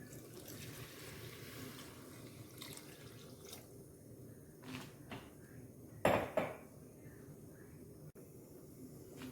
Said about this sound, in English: And then I'm going to add 2 cups of water.